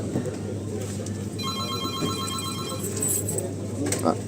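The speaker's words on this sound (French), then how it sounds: "Ah, il y a le téléphone." A telephone rings with a bright electronic trill, one ringing burst standing over a background of indoor chatter and room noise, fairly close.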